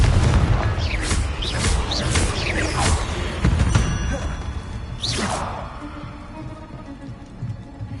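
Fiery Confringo spell blasts in Hogwarts Legacy, a rushing crackling burst with whooshing streaks and a low rumbling impact, loud at first and fading over several seconds.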